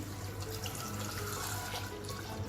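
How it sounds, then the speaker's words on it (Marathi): Water is poured into a pressure cooker holding peeled, chopped potatoes for pav bhaji, a continuous close splashing gush that stays steady throughout, with no talking. "आता यात आपण पाणी घालू"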